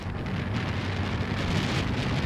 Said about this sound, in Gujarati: ઓહો ફાસ્ટ વરસાદ ચાલુ થઈ ગયો છે ભાઈ, બહુ જબરદસ્ત.